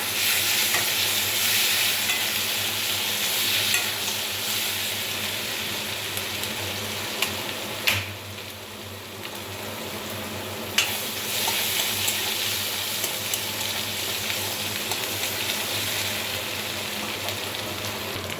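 Steady sizzling of cumin seeds frying in hot oil, continuous and close, with occasional clinks of stirring.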